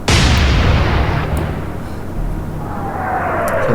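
Naval artillery guns fire in Atlantic Fleet, one loud booming blast opening sharply and then rolling off into a long, fading rumble with a faint whistle trailing near the end.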